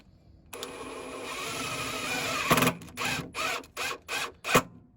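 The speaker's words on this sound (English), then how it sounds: "with a screw gun, we're just going to drill through there." A screw gun drilling tech screws through a Volkswagen Amarok tub whirs in one long continuous run, then fires in several short bursts with pauses between, close and moderately loud.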